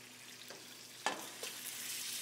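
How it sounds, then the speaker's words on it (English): Meat sears in a hot oiled pan over moderate heat, giving a soft continuous hiss with a few sharper crackles and pops rising out of the sizzle. "And I hear it searing."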